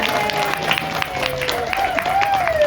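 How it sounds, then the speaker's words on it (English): An audience at a live cooking demo claps steadily for a few seconds, a dense even round of applause with voices mixed in. "round of applause for Kelly"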